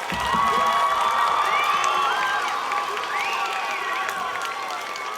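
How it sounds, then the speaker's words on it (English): A school audience of children applauds a guest presenter, with a steady wash of clapping mixed with high cheering and shouting voices that holds at full strength throughout. "Let's give her one more big round of applause."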